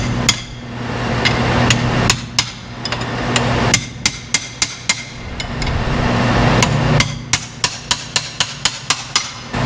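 Hammer blows ringing against metal as a part is knocked loose, about twenty sharp strikes in uneven bursts with a steady low machine hum underneath, close and loud.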